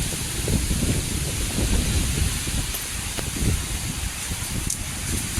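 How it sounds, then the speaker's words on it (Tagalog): Gusty wind buffeting the microphone in low rumbling bursts during a giant honey bee harvest, continuous and close, with a faint hiss behind it. "Napakahangin po."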